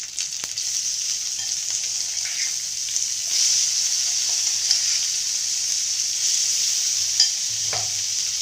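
Thecha, a chili paste made with ridge gourd, fries with curry leaves in a pan, giving a continuous close sizzle with small crackles and faint stirring, heard alone without talk.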